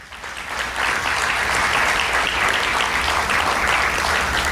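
A church congregation bursts into applause for the Lord, the clapping swelling within the first second into a loud, dense, sustained roar of many hands.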